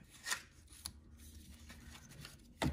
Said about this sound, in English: And then I'm going to banner cut our edges.